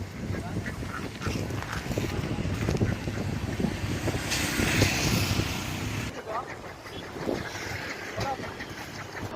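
Ducks at an outdoor duck market near Chembarakkam Dam quack intermittently amid steady ambient noise and wind, with people talking in the background.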